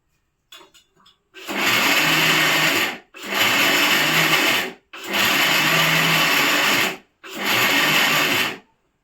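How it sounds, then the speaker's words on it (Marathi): A kitchen mixer grinder pulses dry coconut chutney with chili powder in four loud bursts of whirring grind, each about one to two seconds long and separated by short pauses. A few faint clatters come before the motor starts. "बंद चालू बंद चालू असा मिक्सर करायचा"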